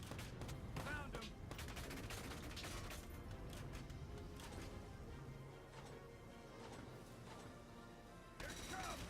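Video game gunfire from Valkyria Chronicles 4, dense bursts of rapid shots and mechanical clatter mixed into a busy battle soundtrack with music, heard faintly and continuously throughout, with occasional game voices.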